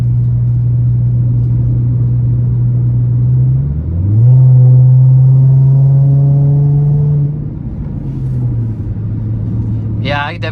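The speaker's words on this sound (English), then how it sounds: "see how my exhaust sounded when I first got it and compare it to this sound now" A Chrysler 300 fitted with a K&N intake idles with a deep, steady exhaust rumble, rises briefly into a louder rev for a few seconds, then settles back to idle. A short bit of talk or noise comes at the end.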